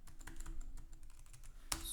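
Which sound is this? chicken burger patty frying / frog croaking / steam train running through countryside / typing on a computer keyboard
typing on a computer keyboard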